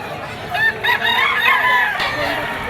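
A yellow-legged Sweater gamefowl bullstag at a fowl sale crows nearby, a rough drawn-out call over a noisy crowded background with voices.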